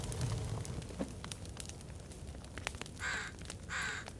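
A crow in the video game The Forest gives two loud, harsh caws near the end, standing out over crackling fire and faint ambient noise.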